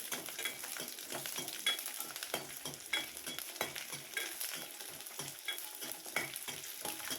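Garlic fries in a spoonful of oil for a Tamil thoothuvalai chutney, a dense, even high-pitched sizzle and crackle with small popping bursts throughout, close and fairly quiet, with no talking.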